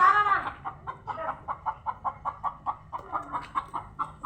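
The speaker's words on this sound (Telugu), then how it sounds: "కోడి చూడండి" A chicken on a family farm plot among vegetable plants clucks in a steady, close run of about a dozen short, evenly spaced calls, opening with a louder drawn-out squawk and carrying no talk.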